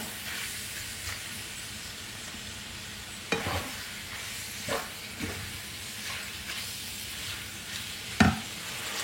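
Ginger garlic paste and bay leaf sizzle in a hot pan with a steady, soft frying hiss, broken by occasional scraping clatters of a spoon stirring against the pan, close and fairly quiet with no one talking.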